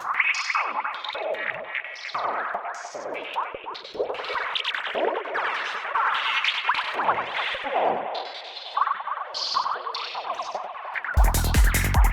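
A squelchy synth lead processed through the Tritium Max for Live device, drenched in echo and swirling effects, sweeping and warbling continuously for several seconds, ending in a burst of bright noise.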